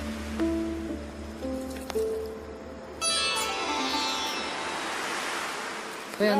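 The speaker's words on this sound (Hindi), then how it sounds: "वो पानी की आवाज यहाँ तक आ रही है।" Rushing water of the Dawki River in Meghalaya, India, a steady broadband roar continuing throughout with occasional tonal chimes and rustles over it, loud and close.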